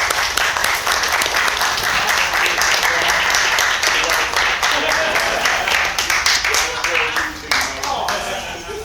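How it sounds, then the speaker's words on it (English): Dense applause from an audience at a speech event fills the room, continuous clapping from many hands with voices and a few whoops over it. "round of applause for you all for that"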